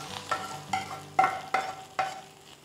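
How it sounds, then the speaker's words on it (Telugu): Sizzling tempering is stirred into cooked rice for pulihora, with five or six distinct scraping stirs against the vessel, close and moderately loud, and a faint crackle beneath. "ఇప్పుడు ఈ కలిపి పెట్టుకున్న అన్నంలో ఈ పోపు పెట్టేసుకుందాం."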